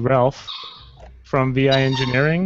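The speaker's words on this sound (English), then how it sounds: "That's my dog." A pet dog whines and yelps in the background while someone talks over it, its short cries rising during his speech.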